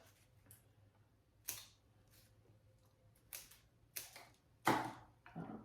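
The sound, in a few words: cutting a flower stem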